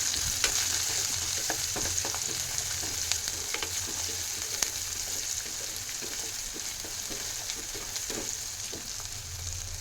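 Onion frying in a pan with green chilli and ginger for a Mysore masala dosa filling gives a soft, steady sizzle with scattered light clicks of stirring, close but fairly quiet.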